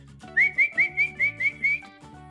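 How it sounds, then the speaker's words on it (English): A person whistles a quick series of about seven short, bright rising notes in a steady rhythm, close and clear, over a soft background of game music. "why are you whistling like that?"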